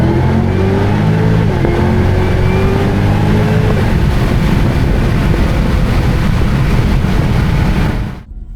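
A 650 hp Cadillac CTS-V accelerates hard from close by on a hot day, its loud engine note rising through the gears in a steady climbing roar, then cutting off abruptly near the end.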